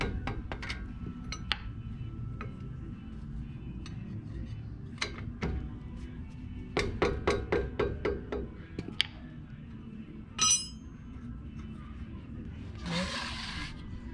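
Metallic clinks and taps ring out while a 14mm wrench and a rubber hammer free the front brake caliper on a 2010 Nissan Frontier, in scattered bursts of a few sharp hits over low background noise.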